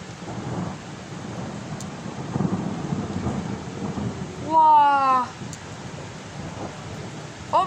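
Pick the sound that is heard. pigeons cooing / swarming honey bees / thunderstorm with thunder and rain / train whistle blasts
thunderstorm with thunder and rain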